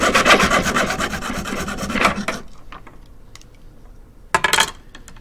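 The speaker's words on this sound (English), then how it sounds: "Actually, I'm going to use a smaller saw and see if it'll work" A small saw cuts through a birch tap spile in quick, steady rasping back-and-forth strokes, close and loud for about two seconds, then stops, followed by a few light handling knocks and a short final scrape.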